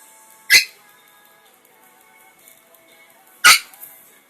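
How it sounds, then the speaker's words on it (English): A small Shih Tzu barking outdoors, two sharp single barks about three seconds apart, fairly loud against a quiet background. "She usually doesn't bark like that."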